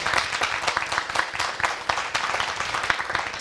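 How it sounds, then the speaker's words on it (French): A studio audience at a television broadcast claps for itself, dense and fairly close, with irregular sharp individual claps standing out from the steady roar. "ce merveilleux public qui va encore s'applaudir"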